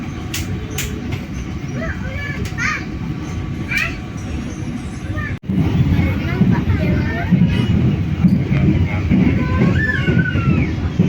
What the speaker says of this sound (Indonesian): Di seberang ada KA Gunung Jati. Dari Semarang Tawang ya, tujuan Gambir Jakarta.